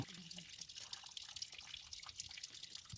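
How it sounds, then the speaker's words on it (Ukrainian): Meltwater drips and trickles from icicles at a frozen spring on a forested hill, a steady run of small close drips over a soft continuous trickle. "З людяних бурульок стікає жива вода, яку не здолали морози."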